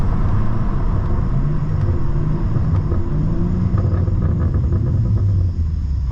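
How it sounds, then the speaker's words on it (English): A modded BMW G87 M2 with a RaceChip tune and Eventuri intakes rumbles through its exhaust, a deep, loud, steady drone with a slight rise and fall and no talk over it. "Hopefully you heard the exhaust."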